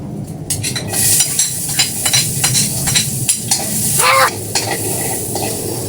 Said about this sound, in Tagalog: Magisa tayo ng bawang at sibuyas.